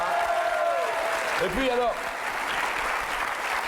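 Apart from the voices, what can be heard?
audience applause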